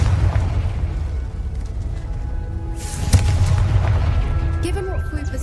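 A Confringo spell bursts in Hogwarts Legacy gameplay, a sudden boom partway through over a continuous low rumble of game ambience and music.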